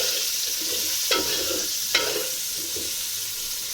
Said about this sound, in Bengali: পেঁয়াজগুলো লাল লাল না হওয়া পর্যন্ত আমি পেঁয়াজগুলো ভেজে নেব